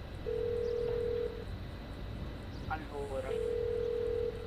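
A phone-call ringing tone inside GTA, two long steady electronic beeps separated by a short gap, with faint talk and a brief voice between them over a low background hum.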